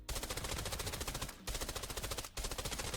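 Rapid automatic gunfire from a weapon firing tier 4 ammo in Arena Breakout: Infinite, a loud, close, continuous burst broken by two brief pauses before firing resumes.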